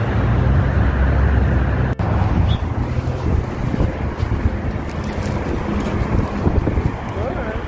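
Winter wind gusts outdoors on a cold day, buffeting the microphone in a loud, uneven low roar with intermittent bumps and rustles.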